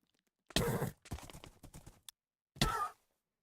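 Hoofbeats of a horse in the Minecraft video game, a few short bursts of clip-clop steps separated by silent pauses, close and fairly loud.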